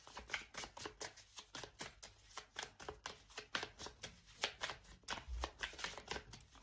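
Tarot cards being shuffled and drawn, a close, continuous run of rhythmic flicks and riffles with steady soft slaps of card on card and no talking.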